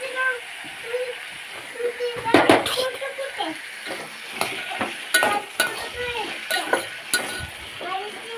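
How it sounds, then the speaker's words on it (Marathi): Okra and cluster beans fry in oil with masala and turmeric in a pan, a steady sizzle broken by scraping stirs and clinks of a utensil against the pot while someone talks over it. "हे बघा चांगली तेलात जरा फ्राय झाली ना, मग त्याच्यात मसाला टाकून घेऊ आपण."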